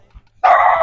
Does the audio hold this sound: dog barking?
yes